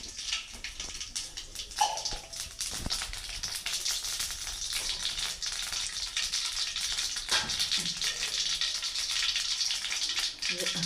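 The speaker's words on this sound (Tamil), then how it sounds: "கொஞ்சமாக எண்ணெய் ஊற்றிக்கலாம். கடுகு கொஞ்சம் போட்டுக்கலாம்." Mustard seeds fry in a little oil in a pan for bitter gourd thokku, giving a steady, close hiss and sizzle that runs throughout at an even level.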